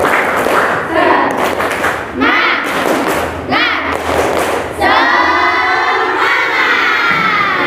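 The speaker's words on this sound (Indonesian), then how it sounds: "Oke, mana semangatnya dulu? Tepuk semangat." A classroom group does the rhythmic 'tepuk semangat' clap, with loud clustered claps, thumps and shouts in bursts, then a sustained cheer of many young voices at the end.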